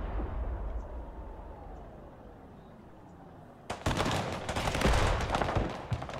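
Artillery fire in the war game Broken Arrow: after a quiet stretch with a faint whistling descent, a dense burst of booming impacts and crackling gunfire erupts and rumbles on, loud and close, with no talk.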